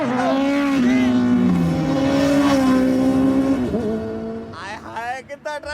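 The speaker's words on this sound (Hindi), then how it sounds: "हाय हाय, कितना ट्रैफिक है।" Road traffic with cars passing and revving in a Hindi film scene, engine whine sweeping loudly across the scene with dramatic music, fading out as other sounds take over near the end.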